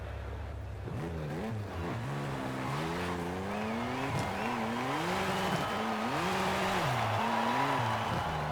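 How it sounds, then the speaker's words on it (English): A BMW M4 engine in Forza Horizon 5 revs hard and rises and falls repeatedly while drifting, a loud continuous race-car growl with tire squeal throughout. "Very race car-y sounding."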